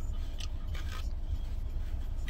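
Toilet paper is torn off a roll in a car for use as napkins, heard as several close, soft papery rips and rustles against a low steady rumble, with no talking.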